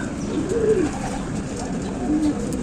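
Racing pigeons at a loft give two soft, low cooing calls close by over a steady background hum.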